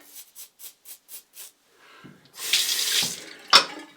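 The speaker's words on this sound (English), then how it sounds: "Let's do a rinse." A faucet gushes into a sink for about a second and a half to rinse a razor during a wet shave with a Yates Ti razor, preceded by a run of soft rhythmic taps and ending with a sharp click.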